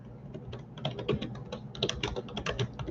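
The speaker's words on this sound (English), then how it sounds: "here, I'll put it in type for you" Someone types quickly on a computer keyboard, close and fairly quiet, a steady patter of key clicks in uneven bursts with no talking.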